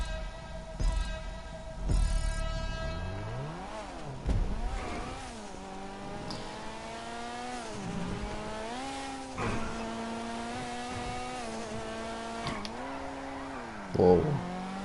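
Engine of a Vapid Flash GT sports car in Grand Theft Auto 5 revving and climbing through repeated gear shifts, with occasional thumps and a brief tire squeal, loud and steady throughout.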